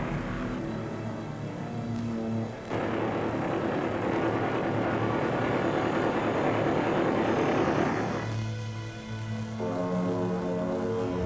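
World War II P-51 fighter aircraft fly overhead, their piston engines producing a broad, steady roar that swells louder in the middle and then eases back, with no voices over it.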